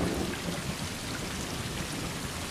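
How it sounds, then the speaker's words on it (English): Steady heavy rain pouring down, a dense constant hiss with low rumbling underneath and no voices. "It's really raining though."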